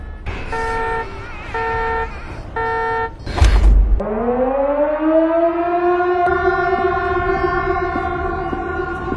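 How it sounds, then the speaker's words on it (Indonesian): An emergency warning siren at a mountain warning station sounds after three short horn blasts and a thump, then winds up into a loud, rising, sustained wail that holds steady, with no voices. "Sampai akhirnya kode merah alarm darurat pun diaktifkan."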